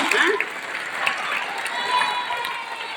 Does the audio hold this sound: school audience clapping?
yes